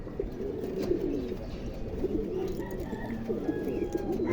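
A young racing pigeon at a race loft softly cooing in repeated low, rolling phrases, quiet and close, over a steady background hum with faint distant chirps.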